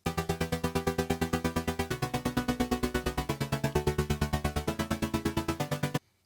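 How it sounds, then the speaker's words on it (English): A sustained synth chord in Serum chopped into rapid, even sixteenth-note stutters, pulsing steadily for about six seconds before cutting off abruptly. "And now the trick is to just control the rate at how fast you want this stuttering"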